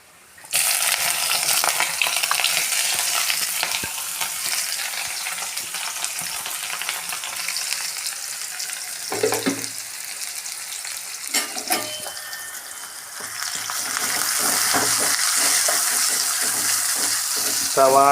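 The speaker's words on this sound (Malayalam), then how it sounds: "കടുക് പൊട്ടി വരുമ്പോൾ നമ്മൾ സവാള ആദ്യം ഇട്ട് കൊടുക്കും." Sliced onions hit hot oil after mustard seeds have popped in a pan, giving a loud, steady hiss of frying that briefly dips amid a few stirring knocks before swelling again close up.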